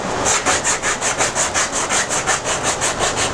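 Coarse-grit sandpaper is rubbed by hand over a wooden corner in quick, even back-and-forth strokes, a close rasping scratch repeating about five times per second.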